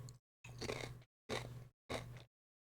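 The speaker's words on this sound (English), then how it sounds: "Hopefully you guys don't hear my tortilla crunching." Crunching bites into a crisp tortilla while eating, three or four loud close chewing bursts separated by silence, with no talking.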